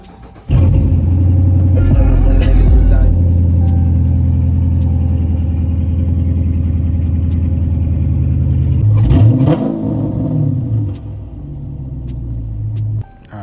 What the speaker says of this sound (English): Now let me start the car.